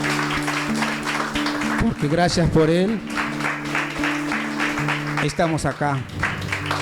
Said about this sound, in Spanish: ¿Por qué no le damos un aplauso a nuestro Señor que murió?